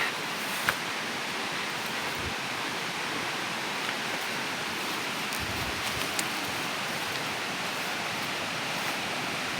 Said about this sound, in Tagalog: may ilog uli